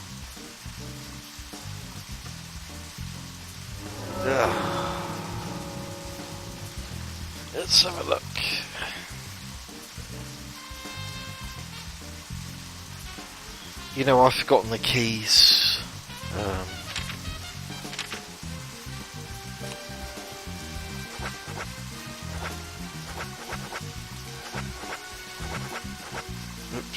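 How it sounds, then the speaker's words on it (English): Steady rain hisses outdoors in the video game Deadly Premonition, a soft constant patter behind the scene while someone speaks over it and a few brief louder sounds cut through. "It's raining outside."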